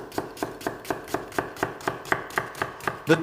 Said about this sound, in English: I'm going to chop the onions quite fine